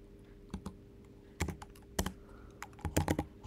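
Typing on a computer keyboard, heard close and quiet as scattered single keystrokes and short bursts of clicks with pauses between them, no voices.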